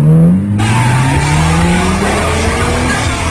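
Race cars roar past in Need for Speed Hot Pursuit 2, loud engines rising in pitch as they accelerate, with tires squealing and skidding, close and continuous.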